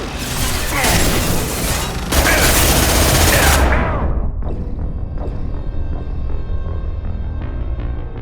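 Heavy automatic gunfire in the Mass Effect 2 Legendary Edition, loud and sustained for about four seconds before cutting off abruptly into a low ringing hum with faint scattered noises.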